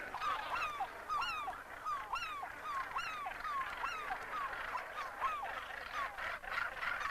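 Gannets calling in a dense colony on Bass Rock, with harsh repeated cries overlapping in a fast, continuous chorus at moderate distance.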